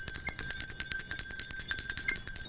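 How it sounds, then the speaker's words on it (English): Small bells ring at a memorial ceremony for a shooting in a quick, steady series of bright strikes, repeating rhythmically at moderate volume with no voices. "We will ring our bells 19 times as a symbol of unity"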